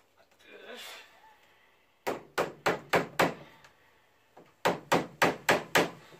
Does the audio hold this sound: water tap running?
no